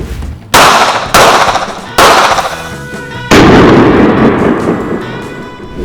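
A Ruger MAX-9 pistol fires four loud, close shots at uneven intervals, each a sharp crack followed by a long ringing decay.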